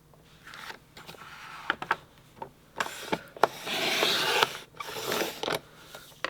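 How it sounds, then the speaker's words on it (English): A paper trimmer cuts paper in a series of close, brief scraping strokes and rustles, some short and sharp and one longer sliding swipe in the middle, with quiet gaps between. "slide it through our trimmer"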